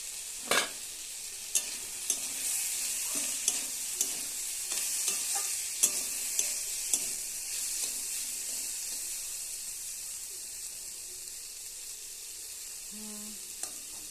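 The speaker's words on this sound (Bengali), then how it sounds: "সিদ্ধ হয়ে গেছে, এবার একটু ভাজা ভাজা করে নেই" Boiled food with turmeric fries in a pan with a steady sizzle while a utensil stirs and taps against it in irregular clicks and scrapes, close and continuous.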